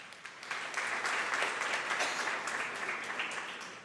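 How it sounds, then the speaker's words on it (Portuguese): A church congregation applauds during a worship service, a short, fairly faint burst of many hands clapping that swells quickly and fades slightly by the end. "Pode aplaudir o Senhor"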